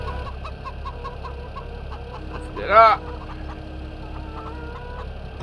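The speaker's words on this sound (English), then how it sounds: "Avoiding the chickens." Chickens cluck in the Farming Simulator 17 video game while a farm vehicle drives past them, with one brief louder squawk standing out over steady engine hum and a man's speech.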